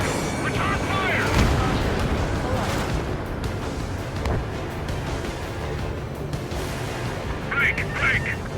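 Ace Combat 7 aerial combat plays with dense gunfire and deep explosive booms layered over a constant roar, while voices call out over the action.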